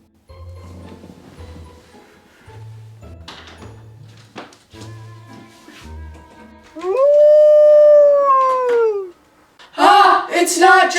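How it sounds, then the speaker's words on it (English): A wolf-like howl rises loud and close outside, a single long wavering cry sliding down in pitch, followed by a sharp burst of noise, with talk and low thumps before it. "Who the heck could that be, howling like a wolf out there?"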